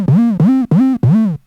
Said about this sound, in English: we're just going to add the 808 pattern.